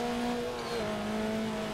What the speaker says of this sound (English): Look at that turbo spooling up and chirping.